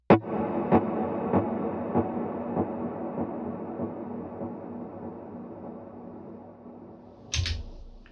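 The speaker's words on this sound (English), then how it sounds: "You can hear the splash on that reverb, and then the trails are on the delay are a little longer" An electric guitar through reverb and delay effects, a struck chord opening into a wash of repeating echo trails that fade steadily, with a brief noisy burst near the end.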